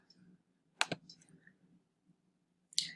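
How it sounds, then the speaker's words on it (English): Mouse clicks on a computer as the Get Started button is selected on weebly.com: a few sharp, close, distinct clicks, with a pair near the start and another near the end over a faint low hum. "we want to go down to the bottom and click Get Started"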